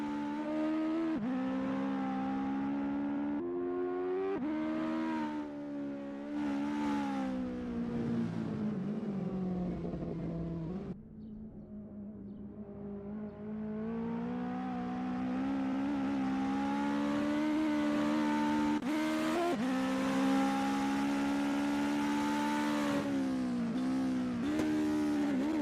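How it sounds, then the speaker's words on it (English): A US Legends car from a racing video game laps Virginia International Raceway, its engine droning steadily and loudly, rising and falling through upshifts and braking, with a brief dip midway before climbing again. "Amadei is getting to grips with the ASRL Legends car in this practice session"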